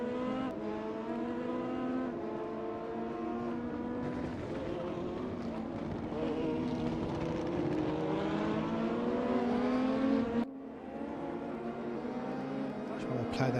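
DTM 2020 race cars lapping the Sepang International circuit in a sim racing game, a loud steady engine drone rising in pitch as they accelerate, one shifting down sharply midway, with commentary talk running over it.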